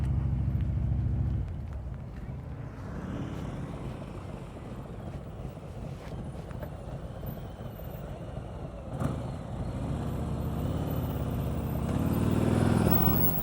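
A motorcycle rides a slow, controlled single-serpentine exercise, with a low engine rumble that shifts in pitch as it weaves. Wind noise buffets the microphone throughout, and the engine swells near the end.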